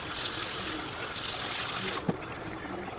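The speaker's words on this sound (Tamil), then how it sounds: "சிக்கன் முழுகிற அளவுக்கு தண்ணி ஊற்றினா போதும்" Water pours steadily into a pot over chicken for about two seconds, a continuous close splashing rush that stops abruptly, followed by a brief clunk and quieter kitchen sounds.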